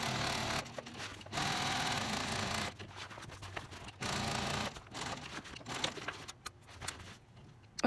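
Sewing machine stitching pockets onto a tote bag panel: bursts of rapid mechanical whirring separated by brief pauses, close and clear, with small handling clicks at the end.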